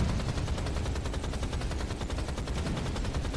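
Rapid, evenly spaced automatic gunfire in a video game played at a speedrunning charity marathon, a continuous burst of sharp shots at moderate loudness with no talking.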